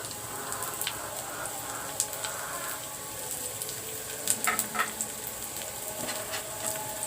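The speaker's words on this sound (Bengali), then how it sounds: "পেঁয়াজগুলো এখন তেলে ভেজে নেব।" Onions fry in hot oil, giving a soft, continuous crackle and sizzle with scattered small pops, close but fairly quiet, with no talking.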